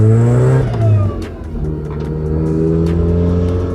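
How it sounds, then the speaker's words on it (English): A supercharged Mazda MX-5 Miata with a loud exhaust and a misfire, revving hard on a dyno, a loud close engine roar that drops in pitch after a second and then climbs steadily again. "I love a loud exhaust, as I always say, but this is ridiculous."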